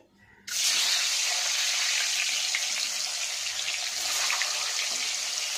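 A dozen eggs dropped into a pot of water, giving a loud, steady bubbling hiss that starts abruptly after a brief quiet moment and carries on without a break.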